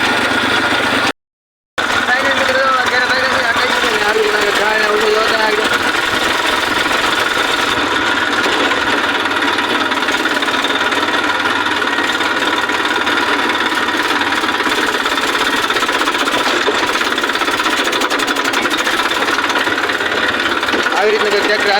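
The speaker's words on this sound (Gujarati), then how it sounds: "આવી રીતના ટ્રેક્ટર હાલે છે હાલ" A 241 tractor engine runs steadily and loudly, a continuous droning, knocking hum that holds unchanged for about twenty seconds after a momentary dropout.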